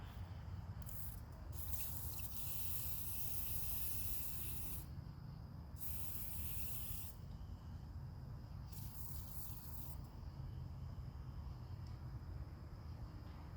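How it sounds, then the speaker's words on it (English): An aerosol can sprays anticorrosion coating onto coilovers being fitted to an R56 Mini Cooper S, in several close hissing bursts with pauses between them over a steady low background. "And then I'm going to go ahead and spray this."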